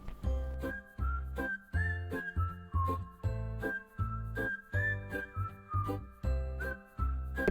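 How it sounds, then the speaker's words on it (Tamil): A pressure cooker whistles repeatedly while chickpeas cook with salt and turmeric, giving a steady run of loud, regular steam bursts with no one talking. "இப்போது 7லேருந்து 8 விசில் வந்துருச்சு."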